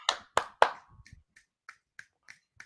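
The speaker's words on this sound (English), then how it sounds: "Clap for her" Three sharp, loud hand claps come close together, followed by a run of lighter, softer taps and pats at uneven intervals. The sound is near and there is no talking.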